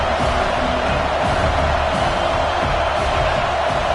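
Stadium crowd at a college football game, a dense, steady roar of many voices filling the space continuously without pauses or distinct peaks.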